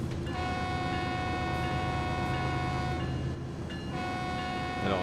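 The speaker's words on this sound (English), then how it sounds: "How's the horn?" A locomotive horn in the Run 8 train simulator, set on the Waycross route, sounds as a long steady multi-tone chord over a low engine rumble, breaking off briefly near the end before resuming.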